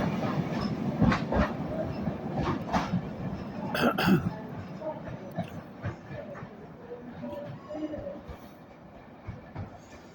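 A train passing through Carlisle station on the West Coast Main Line, a continuous rumble with a rhythmic clickety-clack of wheels over rail joints, fairly close and steady, with a few faint bird calls.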